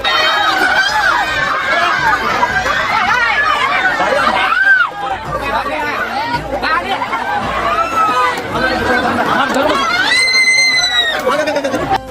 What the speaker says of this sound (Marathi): मित्रांनो, नेमकं गर्दी कशाला म्हणतात हे तुम्ही पुढे बघा